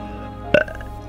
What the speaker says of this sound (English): Can you stop burping?